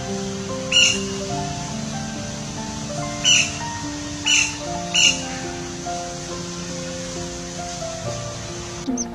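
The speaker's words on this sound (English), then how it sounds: "Golden back woodpecker." Golden-backed woodpecker calling in the open, four short sharp notes spaced irregularly over a bed of steady ambient background tones.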